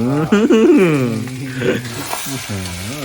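Spicy field rat stir-fries in a hot pan, sizzling and popping beneath a man's loud, expressive voice that talks over most of the sound.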